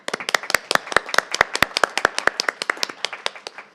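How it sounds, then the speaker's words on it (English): A small audience at a city council study session gives a round of applause: crisp, fairly close individual hand claps in a quick, uneven stream that thins out slightly toward the end. "Let's give them a round of applause."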